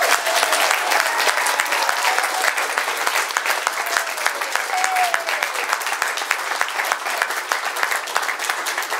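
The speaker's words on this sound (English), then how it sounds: "So, can I get a round of applause, please," Wedding guests at a reception break into sustained, lively applause, a dense crackle of many hands with scattered cheers, holding at a steady level throughout.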